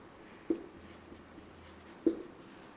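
Two short, quiet marker or chalk strokes on a board, separated by a pause, soft taps against a low, quiet room hum.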